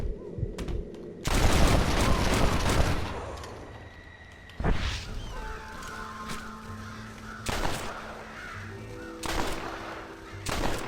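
Gunfire and crow caws in the video game Red Dead Redemption: several loud bursts of shots ring out in clusters, with raucous crow calls scattered among them and no talking.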